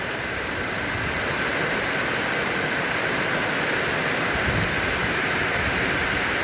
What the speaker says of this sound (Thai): ท่ามกลางสายฝน